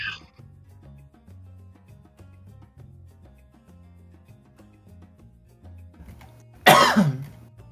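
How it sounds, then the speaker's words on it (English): A single loud, harsh cough bursts out near the end, after a long stretch of quiet, low droning background sound. "That's not a question, that's a cough."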